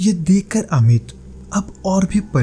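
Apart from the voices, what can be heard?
No distinct noise like a dog, phone or traffic.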